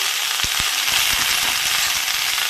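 Malabar spinach stems sizzle and fry steadily in a hot pan, with a loud continuous crackle and a few soft stirring knocks, and no voices.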